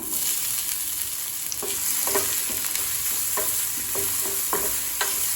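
Chopped garlic, green chilli and onion sauté lightly in a pan for egg dosa, a continuous crisp sizzle broken by frequent light spatula taps and scrapes against the metal.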